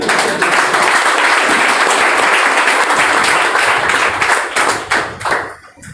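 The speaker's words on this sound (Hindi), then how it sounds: "एक बार ताली बजाइए इनके लिए।" An audience at a motivational talk claps loudly and continuously, a thick crowd of hand claps holding steady before thinning out and fading near the end.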